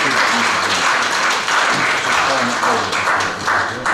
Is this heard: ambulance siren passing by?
no